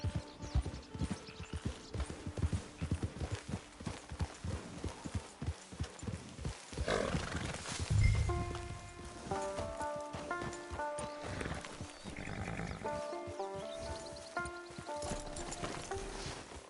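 Horse hooves clip-clop steadily in the Red Dead Redemption 2 video game, a rhythmic run of close hoofbeats with a brief whinny midway and game music tones layered in later.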